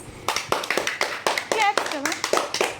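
Several people clap in a quick, uneven rhythm for a boy named Bunty at home, and a voice and other voices talk and call out over the clapping.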